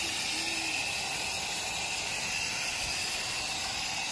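A foam gun sprays coil cleaner onto an HVAC coil, giving a steady, close, loud hiss of spray that runs unbroken throughout with no talking.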